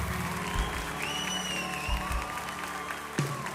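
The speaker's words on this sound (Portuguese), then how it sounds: "Pode aplaudir o Senhor mais alto" A church congregation applauds during a worship service, a fairly soft, even clapping spread across the room, with sustained musical tones and a few low thumps running beneath it.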